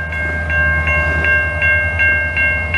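A long CN freight train rolls past close by at a Montreal level crossing, a loud low rumble under a regular clanging bell that rings about three times a second.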